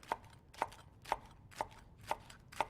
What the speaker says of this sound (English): I'm going to work on chopping some scallions, which we're going to use for the garnish